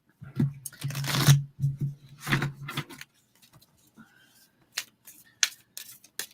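Oracle cards from the Gateway of Light Activation deck are shuffled in a few quick papery bursts of riffling, followed by sparser soft taps, with a low voice murmuring in the background.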